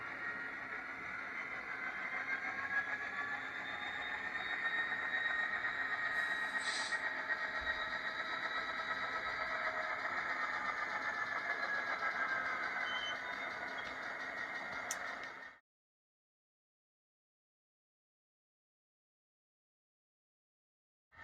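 Sound decoder of an Athearn Genesis SD70 model locomotive with DCC, a steady synthetic diesel drone with a whining high tone and a brief squeal before it cuts off abruptly to silence.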